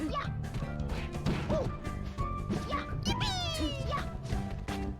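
Luigi's down smash attacks land in a Super Smash Bros. Melee match, sharp impact hits scattered under continuous, excited commentators' talk.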